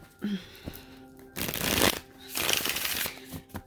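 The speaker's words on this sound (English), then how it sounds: "So as I shuffle these cards" A deck of tarot cards is shuffled close by in two long, dense riffling bursts, with a few soft taps and light handling noises between them.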